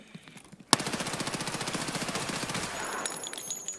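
Automatic gunfire in Escape from Tarkov, likely a UMP, erupts after a brief quiet as a loud, fast, sustained burst of evenly spaced shots lasting about two and a half seconds.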